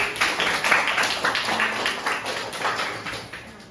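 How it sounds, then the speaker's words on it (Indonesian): Classroom students clapping together in a lesson, a dense, close burst of hand claps with a loose pulsing rhythm that holds steady for a few seconds. "Sip, tepuk tangan."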